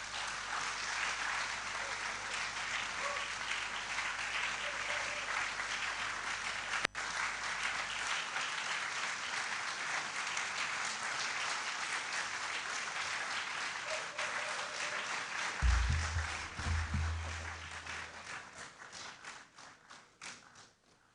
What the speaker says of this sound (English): With a round of applause, let's welcome her upstage.